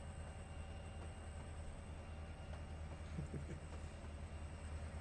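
A CSX freight train with default locomotives in Trainz Simulator 3 rumbles steadily at low volume, a continuous rail drone with faint squeals and clanks drifting through.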